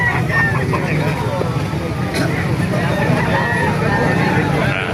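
Chickens cluck amid busy market clamor at a poultry market in Calumpit, Bulacan, Philippines, with people talking nearby over a constant background bustle.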